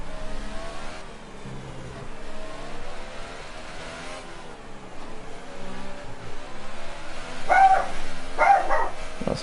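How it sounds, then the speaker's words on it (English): A dog barks a few times near the end, heard under the loud, continuous engine roar of a Formula 1 car in a racing game at the French round. "That's my dog barking"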